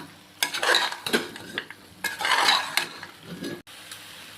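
Chicken stirred in a pan with chicken masala and kuzhambu powders: loud scraping, rustling stirs come in uneven bursts, with a brief clatter near the end and no talk.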